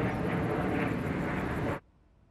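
Airplane flying overhead outdoors, a loud, steady broadband engine roar that holds for nearly two seconds and then cuts off abruptly to near silence.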